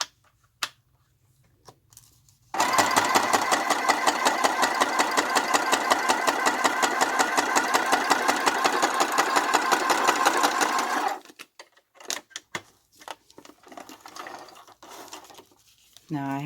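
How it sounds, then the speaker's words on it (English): A sewing machine stitches steadily for about eight seconds in a fast, even mechanical rattle, loud and close, then stops, with brief clicks and handling noises afterward. "plug back in your sewing machine"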